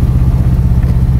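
A Volkswagen Beetle (Fusca) engine runs close and loud, with a low, steady air-cooled chugging and a clattery pulse, briefly and with no talk.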